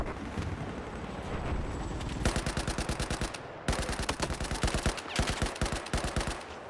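Automatic weapon fire from Battlefield 4, loud and close: a steady background rumble gives way to rapid sustained bursts of shots, with short pauses between several long strings.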